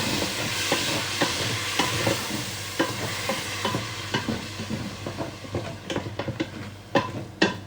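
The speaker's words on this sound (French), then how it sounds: "Vous remuez bien." A spoon stirs vegetable biryani in a pan with water just added. Scraping and clinking strokes repeat unevenly over a low, steady sizzle and grow sharper and more spaced toward the end.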